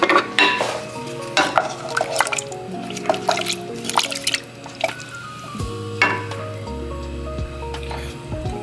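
Melted butter with garlic and thyme is stirred in a pan, giving close wet squishing, dripping and scraping sounds with intermittent clinks against the pan and low background hum.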